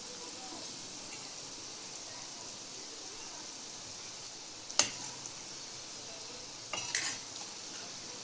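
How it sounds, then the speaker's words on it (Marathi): Gulab jamun balls made from khoa fry slowly in oil over a low flame, giving a soft, steady sizzle broken by two sharp clinks of a utensil against the pan. "आता हे गोळे मंद आचेवर छानपैकी गोल्डन कलर येईपर्यंत तळून घ्यायचे."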